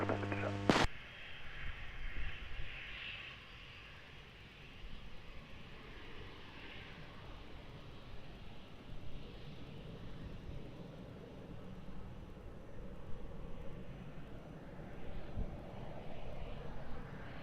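An airliner taking off at Lisbon Airport, a broad distant engine roar building and sustained throughout, with a brief radio voice at the start.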